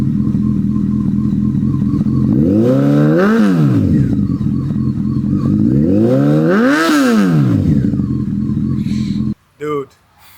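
Honda motorcycle engine revved hard twice toward the red line, each rev climbing and falling back to a steady idle, loud and close, then a short pause and a brief blip at the end.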